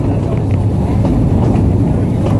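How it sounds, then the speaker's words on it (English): The Hesston ghost train rumbles along the rails, a loud, steady, close low roar with faint clacking over the track and no voices. "we've decided to take this train over abandoned rails."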